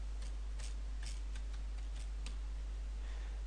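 Light, irregular clicks of keys being typed on a keyboard, faint under a steady background hum.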